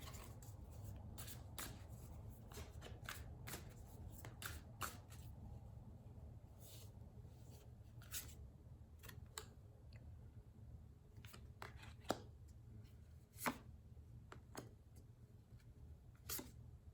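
Tarot cards being shuffled close up and quietly, a soft rustle dotted with crisp irregular flicks and taps, with no talk.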